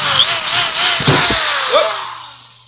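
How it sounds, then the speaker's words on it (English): A power drill bores into a steel bolt, whining loudly and steadily with a few grinding bumps, then winding down and fading as the motor slows. "this drill just tore the crap out of that"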